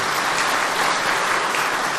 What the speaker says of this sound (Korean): 우리 성도들이 큰 박수로 한번 환영을 하시죠